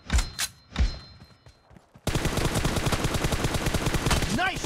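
Gunfire in a PUBG Mobile team deathmatch: two or three separate heavy shots, then a dense continuous stream of rapid automatic fire that stays loud and close to the end.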